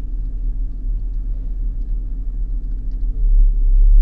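A car engine idling during idle ignition tuning, brought up toward 1200 RPM: a steady, deep, close rumble that grows noticeably louder and fuller over the last second.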